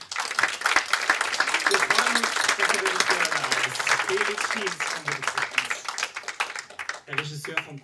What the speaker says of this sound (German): Ja, ein Applaus,